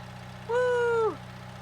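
Tractor engine in Farming Simulator 2019 on PC, a steady low idling drone with a brief rising mechanical whine in the middle that fades back into the hum.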